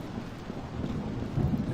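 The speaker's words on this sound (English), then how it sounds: "Nice thunder there." Thunder rumbles through a rainstorm in the video game Phantasmal, a continuous low roll of deep booming under steady rain noise, swelling slightly louder toward the end.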